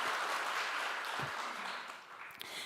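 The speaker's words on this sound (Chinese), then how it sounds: "那给神一个掌声，" Congregation applauding at an outdoor Taiwanese-language church service in a park, a steady broad wash of many hands clapping that holds evenly, then thins and trails off near the end.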